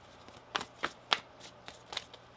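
Tarot cards being shuffled by hand, a series of crisp riffling flutters and soft slaps coming in irregular bursts, close and fairly quiet, with no talk.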